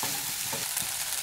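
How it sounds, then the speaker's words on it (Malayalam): Okra (lady's finger) stir-frying in a non-stick pan, a steady close sizzle with soft occasional stirring, continuous and fairly loud with no voices. "വെണ്ടക്കായൊക്കെ നന്നായിട്ടൊന്ന് കുക്കായിട്ട് വരട്ടെ. ഇടയ്ക്ക് ഇളക്കി കൊടുക്കുക."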